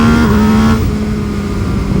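MV Agusta Brutale 800 motorcycle engine revving loudly and close, a steady throaty drone that drops slightly in pitch partway through, with no talk.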